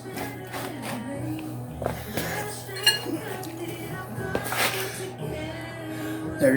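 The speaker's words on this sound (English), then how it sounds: "let me get my big wrench and I'll show you" Big metal wrench clinking and clanking as it is handled while new brake cylinders are fitted, several sharp metallic chinks over a steady low hum with some faint talk.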